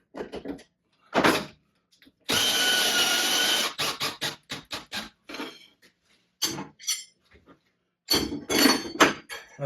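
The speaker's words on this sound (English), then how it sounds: "We're going to change out the bit." Changing the bit on a router mounted in a lift table: a sustained burst of tool whirring, followed by many sharp metallic clicks, clinks and knocks at close range, with no talking.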